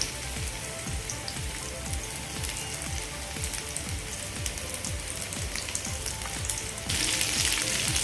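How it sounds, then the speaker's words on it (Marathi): Bangda mackerel fish fry in hot oil with a dense, continuous crackling sizzle full of quick pops, getting louder and brighter toward the end. "दुसरेही मासे या तेलावरती आपण फ्राय करून घेऊयात"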